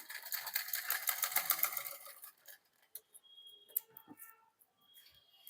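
A sewing machine runs in a quick rhythmic burst for about two seconds, lightly stitching a shirt collar in place, then stops and leaves soft handling clicks and taps.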